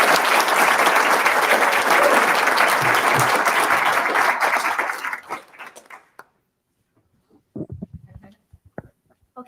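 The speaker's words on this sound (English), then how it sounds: "I want to go ahead and give one more big round of applause for these students that came out here tonight." Sustained applause from an audience at a school board of education meeting honoring students, loud and dense for about five seconds before fading, followed by scattered low talk and movement in the room.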